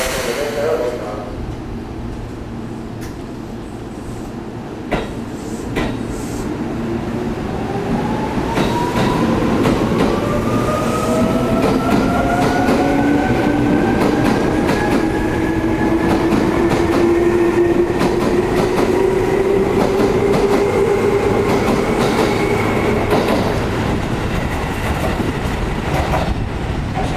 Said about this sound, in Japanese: ご注意ください。2番ホームで電車が動きます。